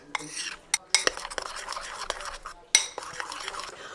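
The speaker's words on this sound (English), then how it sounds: "Stir this up really well." A spoon scrapes and clinks against a bowl in quick, uneven strokes, stirring thick oatmeal with cocoa powder, with a few louder knocks.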